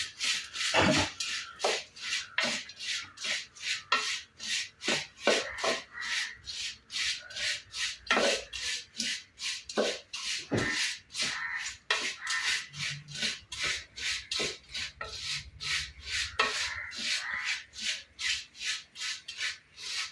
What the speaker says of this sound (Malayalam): അവല് മീഡിയം ഫ്ലെയിമിൽ ചൂടാക്കി എടുക്കാം